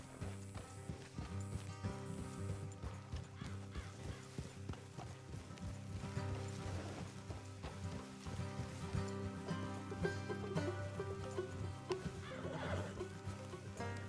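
Horses in Red Dead Redemption 2 whinny and clop along over a dense, steady bed of game music and ambience, the hoofbeats and neighs blended into the continuous mix.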